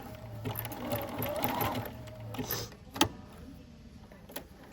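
A sewing machine runs a short back stitch at the end of an elastic shirring seam, close and mechanical with a rapid whirring burst, then stops with a click or two.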